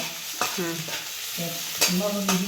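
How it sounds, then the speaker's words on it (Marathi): Chopped onion sautéing in oil in a pan until reddish, a steady sizzle with a few sharp spoon scrapes and stirs over about two and a half seconds, close and moderately loud. "कांदा लाल परतला म्हणजे चांगला लागतो कांदा परतून घ्यायचा"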